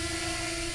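A used DJI drone hovers close by with a loud, steady, high whine from its propellers while being caught by hand.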